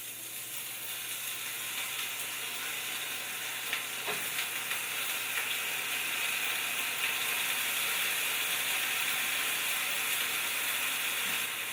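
Broccoli laid floret side down in hot oil, giving a steady, even sizzle and crackle that holds at moderate loudness throughout, with no talking.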